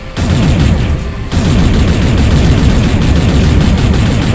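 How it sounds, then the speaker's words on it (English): Rapid automatic weapon fire in the space game Space Salvager, loud, fast evenly spaced shots in a steady stream after a brief pause, alone without talk. "I probably didn't have to start shooting them"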